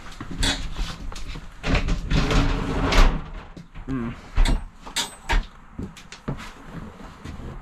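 Curved radius shower door sliding open in a motorhome bathroom, a series of rattling thumps and rolling scrapes amid handling knocks, with people talking throughout.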